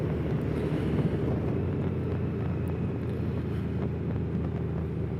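Steady roar of wind rushing past a rider on a Kawasaki Z H2 SE motorcycle, a continuous dense low rumble mixed with engine drone, loud and unbroken throughout with no talking.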